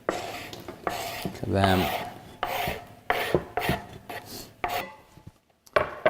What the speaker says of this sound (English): We're going to give those a good stir together